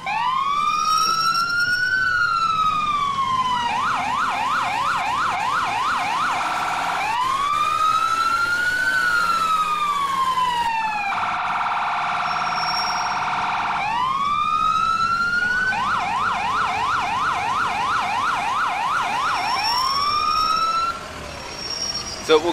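An FDNY fire engine siren in the EmergeNYC emergency-response game wails loud and close, cycling through rising-and-falling sweeps with rapid yelping warble bursts in between, heard alone for the whole stretch.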